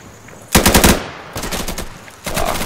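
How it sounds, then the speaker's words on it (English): Automatic rifle fire in the Insurgency video game, with three loud, close bursts of rapid shots separated by brief pauses. "So many people use auto fire on these rifles"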